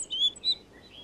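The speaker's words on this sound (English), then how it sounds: "when the rock thrushes start to sing" Brief, high chirping rock thrush song notes in two short phrases, faint against a quiet mountain background at the end of August.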